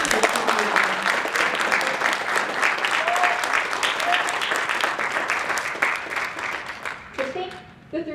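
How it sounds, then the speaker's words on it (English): An audience applauds student government presidential debate candidates with dense, sustained clapping for about seven seconds before it thins out into a few scattered claps and voices at the end. "Can we get a round of applause for all of our candidates?"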